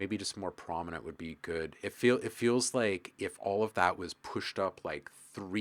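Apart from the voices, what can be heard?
None of the usual background noises is heard.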